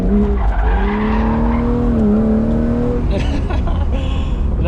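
A BMW E36 M3 with loud headers drifts through an empty business lot, its tires wailing in a long, wavering skid over a roaring engine note before the squeal breaks up and the exhaust crackles and revs close by.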